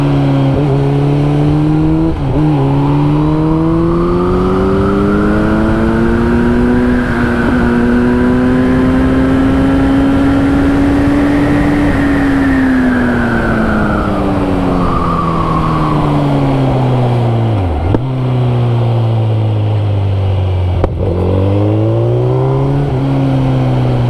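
A four-cylinder car engine drones loudly and continuously on a winding road with hairpin-like bends, the pitch rising and falling steadily as it accelerates and eases off through the curves, with two sharp dips near the end. No one talks.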